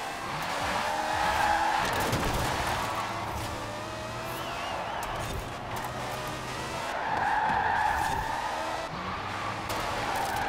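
A Volkswagen I.D. R electric race car in the Forza Horizon 4 video game loses grip and spins, its tyres squealing and skidding in two long surges over a high electric motor whine.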